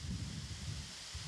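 Strong wind near the water at the Ukraine in Miniature park in Kyiv's Hydropark buffets the microphone as a faint, steady low rumble with soft gusting, and no voices are heard.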